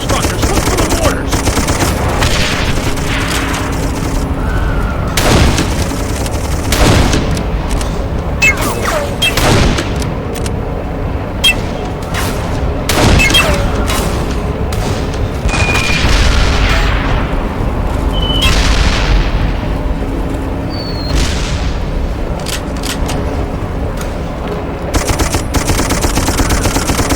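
Rapid machine-gun bursts and heavy booming mortar explosions fill a chaotic battle in the Darkest of Days game, loud and continuous with sharp repeated volleys and deep blasts throughout.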